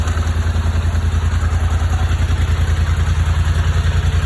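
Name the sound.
2019 Highlifter 850 ATV engine starting and running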